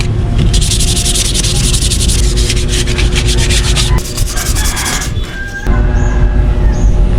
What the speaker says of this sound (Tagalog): lilihain pa natin ito mga kaunat para matanggal yung pinakagaspang nya.